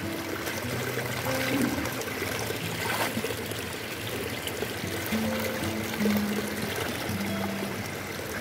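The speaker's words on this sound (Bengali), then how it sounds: "এই ঘটিটা নিয়ে এখন, ঘটিটা নেওয়ার পর ধুয়ে নিই" Water splashes and trickles steadily while a metal pot is rinsed outdoors, a continuous wet pouring sound with faint clinks and background hum.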